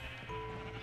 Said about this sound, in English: Oh, so the sheep are so loud.